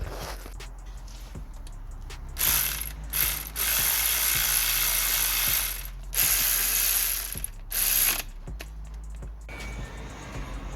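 A ratchet tightens alternator bolts on a Lexus IS 220d, with loud, close bursts of rapid clicking separated by short pauses and quieter handling sounds in between.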